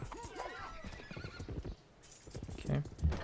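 Horse neighing in the strategy video game Civilization V, a clear whinny with clip-clopping hooves amid other game sounds at moderate volume.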